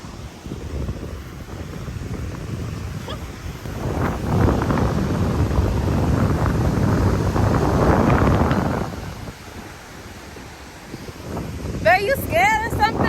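Strong wind at a beach in Ghana buffets the microphone with a steady roar that swells loudly in the middle, with voices talking and surf faintly beneath.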